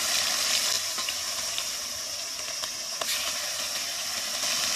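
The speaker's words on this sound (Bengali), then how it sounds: "এবারে আমি মাছগুলো দিচ্ছি, অল্প অল্প করে মাছগুলো ভেজে নেব।" Pomfret fish frying in hot oil, a steady broadband sizzle with faint crackles and small pops, continuous and fairly close, with no talking.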